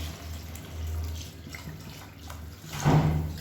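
Hot water, about a litre, pours from a vessel into a pot for mutton soup, a soft steady splashing that swells into a louder gush near the end.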